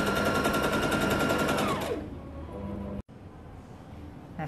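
Sewing machine stitching the inner seam of children's pajamas, a loud rapid mechanical rattle running steadily for about two seconds before stopping, then quiet room noise with a brief click.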